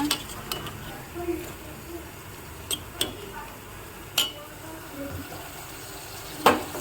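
A spoon stirring gongura and dried shrimp curry in a pan, with soft sizzling and several distinct clinks of utensil on metal scattered irregularly over a quiet background.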